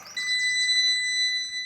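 A Dodge Ram truck being converted into a Fargo sounds a warning beep, a thin high electronic tone repeating in quick chirps, steady and close, with no talking.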